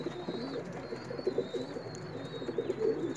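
Soft, low pigeon cooing repeats in gentle throaty bursts, close by, with faint background hiss.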